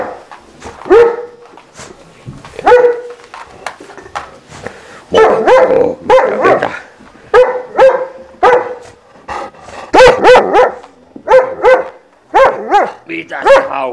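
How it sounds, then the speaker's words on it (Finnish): A big dog barks repeatedly at close range, loud sharp barks in irregular bursts with brief growly edges, while a person talks between and over the barking. "Mitä se iso poika haukkuu?"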